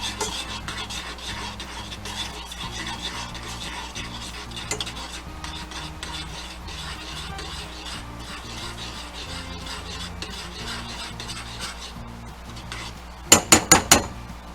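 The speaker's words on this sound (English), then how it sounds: "Now I'm going to mix this all up." Potatoes with butter and herbs being stirred in a pan over low heat, giving a steady scraping, rubbing sound, with a few sharp utensil clinks against the pan near the end.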